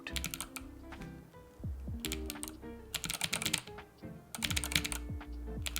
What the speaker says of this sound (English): apparently the best sounding clicky switches